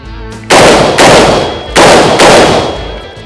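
Four loud, sharp rifle or carbine gunshots fire in quick succession, each a sudden blast with a long ringing decay, spaced about half a second apart, with no voices.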